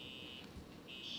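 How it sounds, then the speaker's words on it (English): A fire alarm sounding outside, a faint steady electronic buzzing tone heard from a distance that drops out briefly midway and then resumes. "Fire alarm out there."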